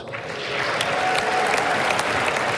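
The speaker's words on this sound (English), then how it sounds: "that was met with a very loud applause" Loud, sustained applause for a political speech, a large crowd clapping steadily that swells within the first half second and holds at full strength, with a few sharper cheers poking through.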